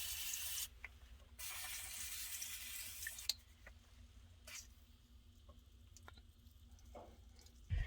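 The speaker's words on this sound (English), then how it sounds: "So I'm going to spray it a whole bunch and mess with it" Lubricant sprayed in two long hissing bursts onto the cab lift lock of an M1078 LMTV military truck, followed by quiet metallic fiddling and a few faint knocks.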